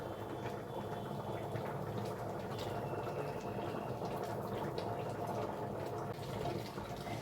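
A pot of Bengali chana dal cooked with jackfruit boils steadily, giving a continuous dense bubbling and simmering that stays even and close throughout.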